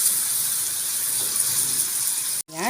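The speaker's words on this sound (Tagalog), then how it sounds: "kaya maglagay na tayo ng tubig" Water poured into beef searing in a hot cooking pan gives a loud continuous steaming hiss and sizzle that cuts off abruptly near the end.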